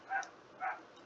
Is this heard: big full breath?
no